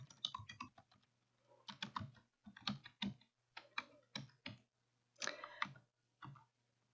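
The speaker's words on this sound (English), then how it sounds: "And then you can type in any text that you want." Typing on a computer keyboard: short bursts of quick, close key clicks in several separate clusters, with pauses between the bursts and a faint steady hum beneath.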